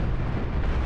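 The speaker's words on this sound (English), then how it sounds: "36 missiles fired in a single salvo" A salvo of missiles strikes in the space combat game Cosmoteer, a brief, dense rumbling blast of overlapping explosions filling the moment.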